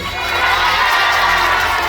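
Audience applause and cheering for a music video director at an awards gala, a dense sustained wash of clapping and crowd noise throughout, fairly loud and steady.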